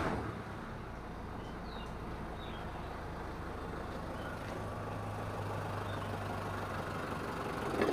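A 2012 Mitsubishi Pajero Sport engine running after restoration, a steady low idle with a constant hum, moderately quiet and continuous throughout with no speech.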